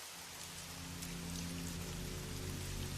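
Steady rain falling on a surface, a dense, even hiss of drops that goes on without a break, soft and continuous with a faint low rumble underneath.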